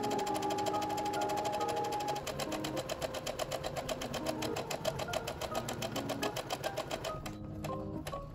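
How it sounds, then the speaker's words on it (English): A sewing machine hems the bottom edges of skirt ruffle pieces for a summer Lolita dress, running steadily with rapid regular needle chatter close up, under light background music. "I started off first by sewing together and hemming the bottom edge of all my skirt ruffle pieces."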